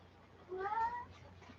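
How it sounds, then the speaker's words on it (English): A cat lets out a single drawn-out meow, clear and close, rising and then fading against a quiet room background. "Yeah, stupid cat. No, cat not on stream."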